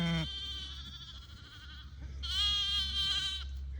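Young lambs on a farm bleat in two clear, wavering cries, the second louder and higher, over a steady low background hum.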